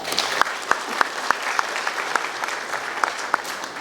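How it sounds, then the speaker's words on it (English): Audience at a textile award function in India applauding to welcome the chief guest, a sustained round of clapping with distinct sharp hand claps standing out near the microphone. "Kindly help me in welcoming her with a huge round of applause."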